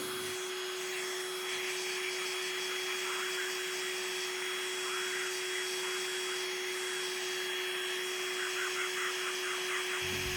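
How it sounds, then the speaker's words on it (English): A shop vacuum attached to a RIDGID 18V OCTANE jigsaw roars continuously with a steady hum and rushing airflow under the saw's shoe, close and unchanging throughout. "you do get a little bit of airflow underneath the shoe here. You can hear it."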